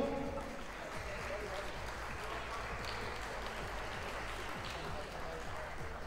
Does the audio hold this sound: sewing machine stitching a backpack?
no